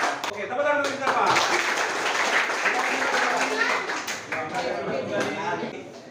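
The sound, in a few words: class clapping hands twice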